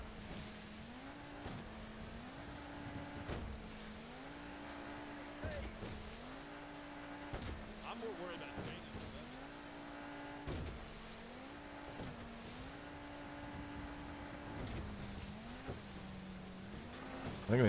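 A damaged car engine in a video game revs hard and steadily, its tone climbing and dropping again and again as it shifts through gears.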